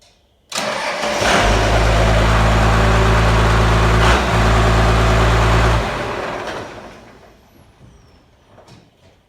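A Cummins diesel truck engine with a P-pump cranks briefly and fires up, settling into a loud, steady close idle with a momentary dip partway through before shutting down and fading into quiet.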